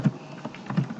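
Several soft keyboard taps sound close by while typing in a Word document, a brief run of muted clicks in a quiet room.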